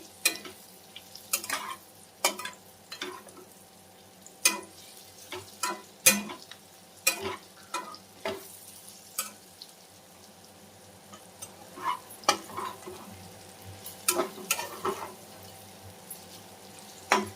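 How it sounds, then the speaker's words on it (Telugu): Bitter gourd fries in a pan with a steady soft sizzle, broken by frequent sharp scrapes and clinks of a spatula stirring against the metal. No one speaks. "ఇలా ఫ్రై చేసుకోవాలి టోటల్గా కాకరకాయ అయితే"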